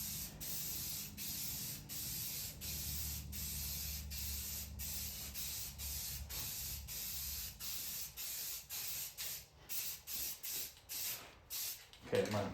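Spray paint hisses onto the wooden speaker grill of a Robotron arcade game in short repeated bursts, steady at first and then broken into quick pulses near the end, with a faint low hum underneath.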